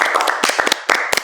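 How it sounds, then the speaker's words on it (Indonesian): A few people clapping after a remark on a talk show, a brief scattered burst of separate hand claps, close and uneven, with no one talking. "Tepuk tangan."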